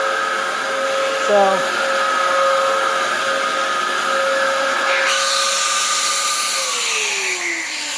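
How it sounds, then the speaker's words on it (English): Dyson DC07 upright vacuum cleaner running steadily while vacuuming an apartment floor, a loud continuous motor whine with shifting pitch as the low-reach floor tool is moved, briefly changing tone partway through. "So I vacuumed that, or at least part of it."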